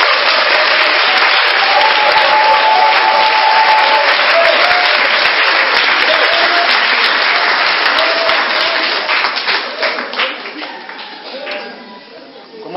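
A church congregation bursts into loud, sustained applause, dense clapping mixed with cheers and voices that gradually thins out and fades toward the end.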